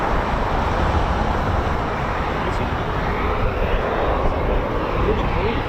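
A CV-22 Osprey tiltrotor lifts off at an air base, its steady broadband engine and rotor roar running continuously at moderate distance, with faint voices of onlookers in the background.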